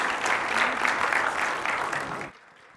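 A seated audience at an achievers' meet claps for the boys, a dense, lively burst of many hands that cuts off abruptly near the end, leaving near silence.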